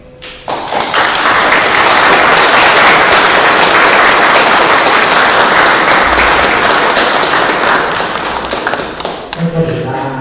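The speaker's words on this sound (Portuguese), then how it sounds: "As palmas são para vocês, acima de tudo para Deus e Jesus." An audience at a spiritual talk by someone bursts into loud, sustained applause that swells quickly and slowly tapers off, with a voice emerging near the end.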